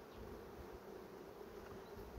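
Hungry honey bees swarm a hive feeding frame, making a continuous, faint, even buzz that fills the whole stretch with no voices.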